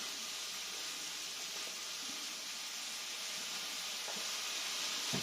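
Wine hits a hot pan of butter noodles and onions, giving a continuous bright hiss and sizzle that stays steady and moderately loud throughout.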